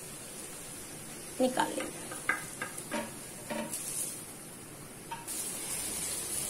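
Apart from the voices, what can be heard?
koftas frying in oil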